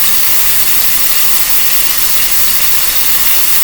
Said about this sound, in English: And we're brown it up so there's no pinch bits left on the meat.